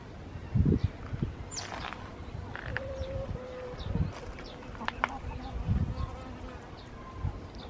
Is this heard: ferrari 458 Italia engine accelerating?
no